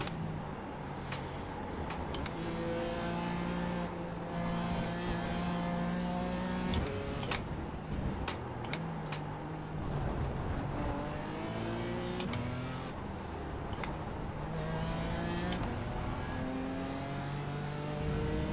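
Race cars in the iRacing video game, McLarens among them, with engines droning and revving through gear shifts in rising and falling pitch steps, steady and continuous, with occasional clicks and no audible talk.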